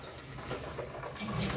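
Tap water runs steadily at a sink as a child washes their face at home, a continuous close splashing hiss with no talking.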